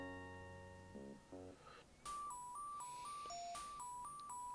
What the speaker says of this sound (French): Le téléphone sonne, ok.